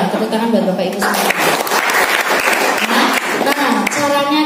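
Audience applause at a business seminar, a steady wash of clapping from a seated crowd lasting several seconds, with a presenter's voice carrying over it.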